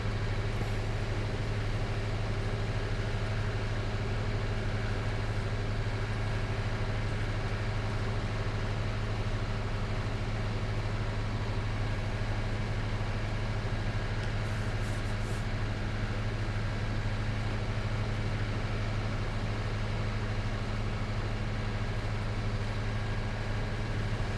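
Tractor engine in the farming game Farming Simulator 19, a steady low droning hum that holds constant and unbroken throughout, moderately loud with no talk.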